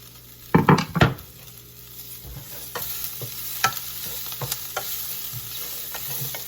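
Garlic sizzles softly in a hot pan while a utensil scrapes and stirs, with a couple of louder clanks early on, then a faint steady frying hiss with scattered light scrapes.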